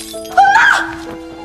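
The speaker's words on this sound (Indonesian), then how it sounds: "tiba-tiba saja lampunya pecah" A lamp shatters in a Korean drama scene, a sudden bright crash of breaking glass that rings out briefly and then fades under a sustained tonal background.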